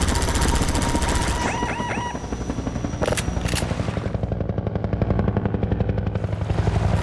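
Rapid bursts of automatic gunfire from Half-Life 2, loud and dense with a rattling, continuous rhythm layered over mechanical clatter and game noise throughout.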